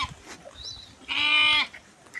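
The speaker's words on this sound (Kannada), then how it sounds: "ये देखिए बकरे कुर्बानी के लिए तैयारी हो रही है" A goat being grazed and readied for Bakrid sacrifice gives one loud, clear bleat lasting about half a second, with faint outdoor background before and after.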